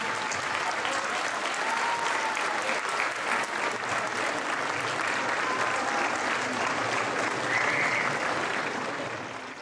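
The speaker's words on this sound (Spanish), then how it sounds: "les pediría un fuerte aplauso para los abogados y para los indiciados que" Loud, sustained applause from a crowd at a community gathering honouring lawyers and the accused, dense steady clapping filling nearly ten seconds before tapering slightly at the end.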